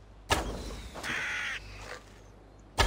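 Crows caw in the video game Assassin's Creed Valhalla, a few harsh, separate calls heard at moderate loudness against a quiet background, with no talk.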